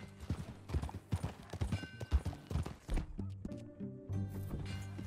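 Rhythmic clip-clop of horse hooves in Red Dead Redemption 2 at a steady pace, fairly close, giving way to a low sustained musical tone near the end.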